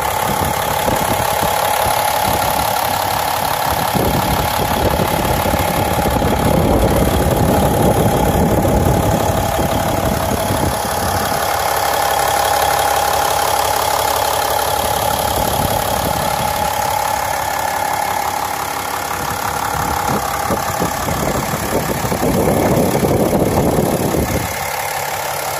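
A 6.7 liter Cummins diesel engine in a 2017 RAM 3500 dually truck idles with a loud, steady, unbroken rumble and a faint knocking character throughout, with no voices.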